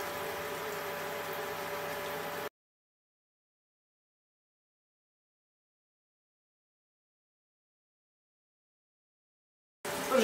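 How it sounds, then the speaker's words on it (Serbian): Floured chicken pieces frying in hot oil give a steady, moderate sizzling hiss for about two and a half seconds, then the sound cuts to complete silence before a brief return at the end. "Pržit ćete piletinu po nekoliko minuta sa jedne i sa druge strane da uhvati koricu."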